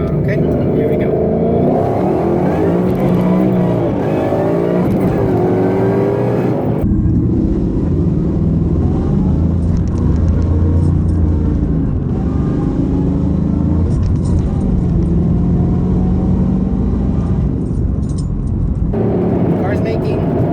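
A Coyote V8 Ford Mustang making over 700 rear horsepower runs up through the gears from first, loud and close. The engine revs climb, drop sharply at each shift, then pull hard again.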